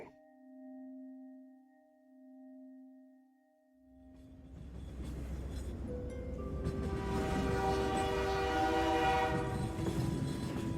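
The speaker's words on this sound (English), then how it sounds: "The train scuttled across the tracks." A train rumbles along the tracks, its rolling noise swelling from near silence to a loud, sustained roar with horn-like tones ringing over it.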